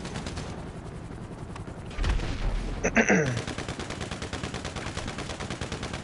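Rapid automatic gunfire in GTA Online rattles continuously throughout, with a heavier burst and a sharp crack midway, loud and dense with no voices over it.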